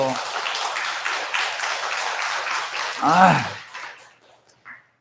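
A congregation at a Sunday Buddhist temple service applauds the temple choir with a round of clapping that tapers off, followed by a short vocal sound and then near silence.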